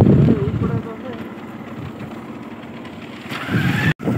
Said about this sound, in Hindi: देख लो गाइस, ऐसा चलता है खेतों के बीच बाइक।